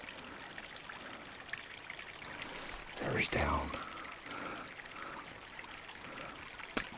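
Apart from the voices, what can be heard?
small creek flowing through a canyon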